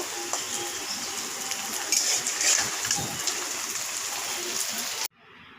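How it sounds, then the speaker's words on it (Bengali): Cabbage pakoras with carrot, green chilli and onion fry in hot oil, giving a steady loud sizzle with a few stirring scrapes before the sound cuts off abruptly near the end. "আমি এখন এটাকে উল্টিয়ে নিব, এটা লাল লাল করে ভেজে নেব।"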